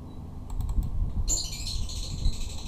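Rapid keystrokes on a computer keyboard while entering a SUMIF formula in Excel, a quick burst of close, crisp clicks with a brighter clatter of faster typing in the second half.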